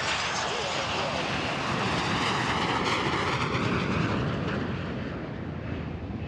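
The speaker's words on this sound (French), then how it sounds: "des avions de chasse de l'armée de l'air des forces armées angolaises ont survolé ce vendredi" Two Angolan Sukhoi Su-30K fighter jets fly over Kinshasa, producing a loud, steady broadband jet roar that swells and then slowly fades.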